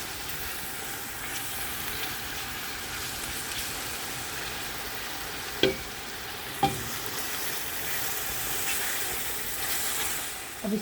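Masala spices frying with turmeric and salt in a pot for chicken kofta biryani: a steady hissing sizzle throughout, with a couple of sharp knocks from stirring near the middle, no voices.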